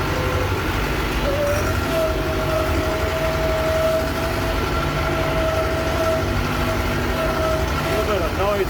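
An Allis Chalmers 6080 tractor under overhaul drives forward with a steady, loud engine rumble and a thin whining gear noise riding on top throughout.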